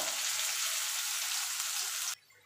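Potatoes fry loudly in hot oil during a Bengali boal fish dish preparation, giving a dense, steady sizzle that cuts off abruptly near the end.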